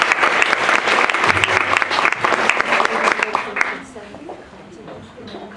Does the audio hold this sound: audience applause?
yes